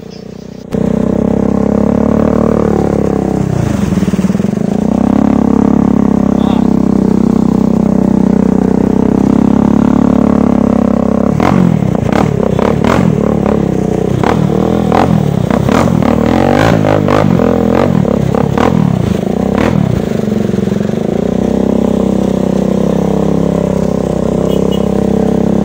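A motorcycle ridden through a flooded road in Don Pedro, Cebu, its engine droning steadily throughout, with clattering, splashing bursts through the middle and a rev near the end; close and loud.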